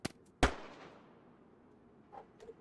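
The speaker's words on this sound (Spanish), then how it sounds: "Sí, estoy escuchando disparos a tope." Gunshots in the video game DayZ on the Namalsk map ring out as two sharp, fairly distant cracks a moment apart, each trailing off in a short echo, with faint further pops after them.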